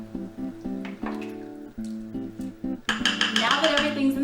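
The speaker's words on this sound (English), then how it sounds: "Now that the cheese is inside, you can go ahead and add the milk." Milk pours into cheddar broccoli soup in a slow cooker, a wet, splashing fill that begins about two-thirds through and continues to the end over steady background music.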